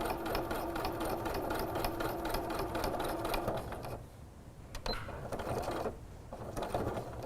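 A sewing machine stitches woven fabric strips in a fast continuous whir, pausing briefly midway with a few clicks before resuming in short runs, close and fairly quiet.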